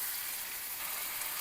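Chicken sizzles steadily in a pan with turmeric and salt, a dense, continuous hiss up close throughout, no talking.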